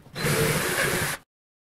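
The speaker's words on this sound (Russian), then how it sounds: "Очень удобно предварительно засверлиться в столешнице." A drill bores a pilot hole into a kitchen countertop, giving one loud, steady burst of about a second that stops abruptly and leaves silence.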